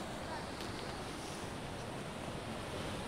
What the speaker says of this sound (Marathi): याला लागूनच समुद्र आहे